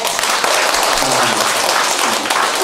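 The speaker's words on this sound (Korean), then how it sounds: "앞에 나오신 분들한테 그 격려에 박수 한번 주세요" Audience claps loudly in encouragement for performers who came forward at a singing session, a dense, sustained burst of applause with no let-up across its short span.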